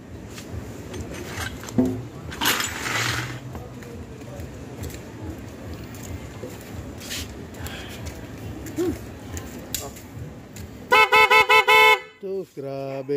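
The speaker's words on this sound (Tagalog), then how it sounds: "pakinggan natin yung magandang busina." A G-Star vehicle air horn is tested after people talk over background noise, then sounds in a burst of loud, blaring toots near the end.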